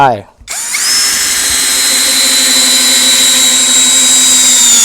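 A Masaru cordless drill whirs up after a brief opening noise and runs continuously at a steady high pitch, loud and close, driving a screw.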